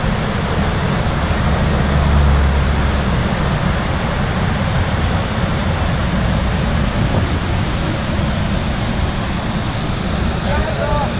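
Loud, steady rushing water roars without a break beneath a bridge in Yosemite National Park, a broad constant wash like a fast river churning below.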